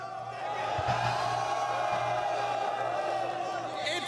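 A large crowd of Top Esports fans cheering in an arena at the League of Legends World Championship: a steady, dense roar of voices with whoops and shouts that holds for several seconds and swells slightly toward the end.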